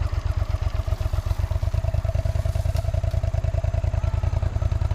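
Suzuki SV650 motorcycle with a chain rubbing, a close, fast, steady rhythmic thumping pulse with a faint ticking clatter over the engine.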